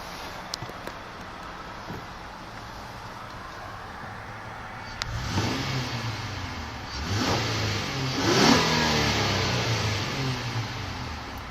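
A 2013 Honda Accord Touring V6 engine idles quietly, then revs up with a smooth, deep rise and falls back, swelling a few times at close range.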